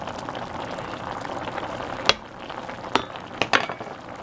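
Mild beef chili with no beans simmers in a pot, giving a low steady bubbling hiss broken by a few sharp metallic clinks near the end, with no talking.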